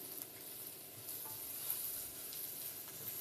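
Coriander seeds and ajwain frying in oil in a pan for aloo kachori, a faint steady sizzle and hiss with light stirring.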